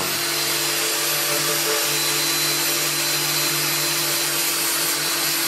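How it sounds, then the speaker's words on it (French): A triangular power sander sands an alloy wheel rim, whining steadily and loudly at close range, a constant buzzing hum with a high-pitched tone running throughout. "j'ai pris une ponceuse triangulaire et je passe la ponceuse partout."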